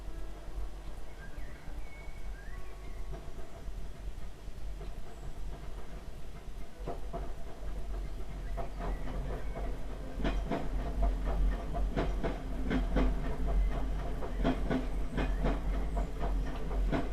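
A train passing outside a home, steady rumbling with rhythmic clickety-clack of wheels over rail joints building toward the end, moderately distant and continuous, with no talk.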